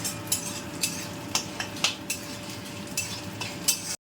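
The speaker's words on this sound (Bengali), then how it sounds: "দেখুন নিম পাতাগুলো ভাজা হয়ে গেছে" Neem leaves frying in a pan with a soft steady sizzle, punctuated by regular sharp spatula scrapes and clinks roughly every half second, close up.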